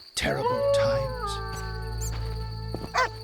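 A rabid dog in The Witcher game lets out a long, loud, wavering howl that slides downward, then trails off, with a brief second yelp near the end.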